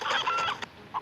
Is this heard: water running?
no